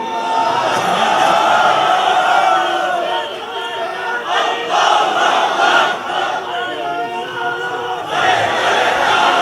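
At a Bangladeshi Islamic sermon gathering, a large crowd answers a call by shouting the takbir, Allahu Akbar, together. The massed voices are loud and sustained, then surge again near the end.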